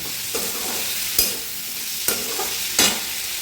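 Pumpkin, potato and bitter gourd fry in a pan with a steady, close sizzle, broken by three or four scraping stirs of a spatula.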